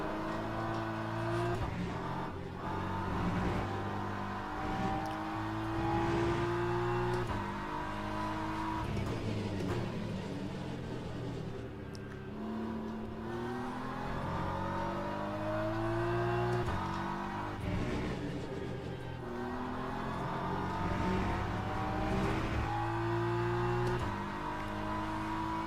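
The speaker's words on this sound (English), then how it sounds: "Man, that Porsche is flying. That Porsche is really, really flying." A Porsche race car's engine howls in the Le Mans Ultimate racing game. It revs up and down through repeated gear changes and braking, loud and continuous, with no talking.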